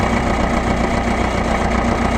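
A diesel Ferguson TEF20 tractor's engine churns loudly and continuously at close range, a steady rough drone with faint pulsing and no voices.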